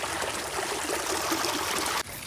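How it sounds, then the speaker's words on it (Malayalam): Steady rushing water flows continuously along a roadside canal nearby, a broad even wash of sound that cuts off abruptly near the end. "പറമ്പിലേക്ക് വെള്ളം പോകുന്നതൊക്കെ കാണുന്നത്"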